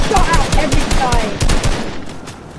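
Rapid bursts of Fortnite automatic gunfire crackle in quick repeated volleys, loud and close, with excited player voices shouting over the shooting.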